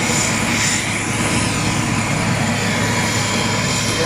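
An airplane flies in to land, its engine drone a steady, fairly loud roar that holds without a break for a few seconds, with no voices over it.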